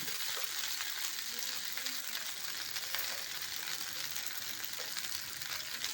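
Jeera rice with salt is stir-fried in a hot pan, giving a steady, even sizzle with light stirring scrapes and no talk.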